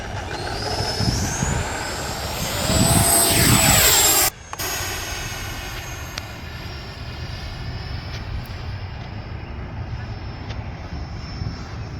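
An FMS BAE Hawk 80mm RC model jet with a KMRC afterburner flying overhead at dusk, a loud steady turbine whine and roar with a pitch that sweeps as it passes, then a continuing lower drone.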